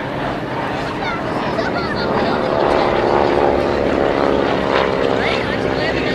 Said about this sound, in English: With 600 horsepower radial engines